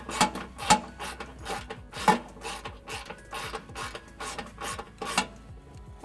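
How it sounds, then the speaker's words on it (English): A 10 mm ratchet tightening screws during a trailer hitch installation on a 2014 Subaru Forester, heard as a series of close, sharp ratcheting clicks in irregular bursts with short pauses between strokes. "Using my 10 millimeter, I'm going to tighten them all back down."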